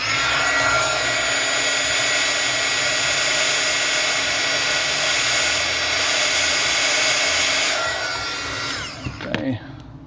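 A heat gun blows steadily while warming a Samsung S5 screen during a rebuild, a loud continuous whine and airy rush that cuts off near the end, followed by a few handling clicks.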